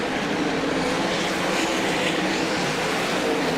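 Race cars run a hot lap session on the track at the 2024 Australian Grand Annual Classic, giving a dense, steady engine roar that fills the whole moment without a break.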